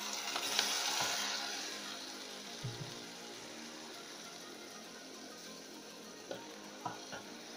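Tomatoes and pepper frying in a pan with coconut milk and small sardines, a steady soft sizzle with occasional faint clinks and scrapes of stirring, close and quiet.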